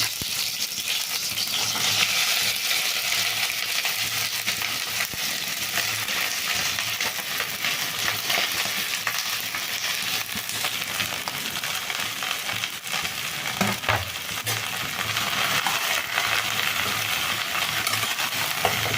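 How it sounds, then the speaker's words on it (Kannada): Okra frying in oil in a pan gives a dense, steady sizzle and crackle throughout, close and continuous, with occasional stirring scrapes. "ಬಾಣಲಿಗೆ ಸ್ವಲ್ಪ ಎಣ್ಣೆ ಹಾಕ್ಕೊಂಡು ಎಣ್ಣೆಕಾಯಿಲಿ ಬೆಂಡೆಕಾಯಿ ಹುರ್ಕೊಳ್ಳೋಣ"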